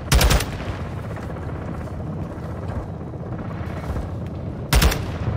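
Heavy aircraft gun run in Call of Duty: Modern Warfare 2 campaign: two loud, sharp bursts of rapid fire, one at the start and one near the end, with a steady rumbling battlefield drone between them.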